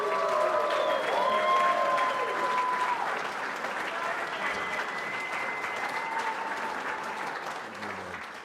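An audience applauds for wrestler Ted DiBiase at a professional wrestling Hall of Fame induction ceremony, a full, sustained wash of clapping that gradually fades, with a voice faintly over it.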